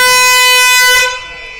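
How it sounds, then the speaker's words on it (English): A loud, steady siren sounds the three-quarter-time break at an Australian rules football match between Nightcliff and Tiwi in the NTFL Premier League, holding one sustained harmonic blast before cutting off into crowd and ground noise. "The siren frightened the daylights out of him."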